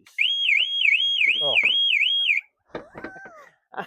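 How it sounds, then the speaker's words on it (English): A Ford Transit Mk8 van's car alarm whoops in a rapid, wavering siren tone for about two seconds, loud and close, then stops abruptly as someone speaks briefly. "Alarm works."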